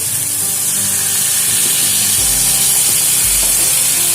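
Water goes into a hot pan of frying banana flower with spices, setting off a loud, steady, hissing sizzle that fills the whole stretch.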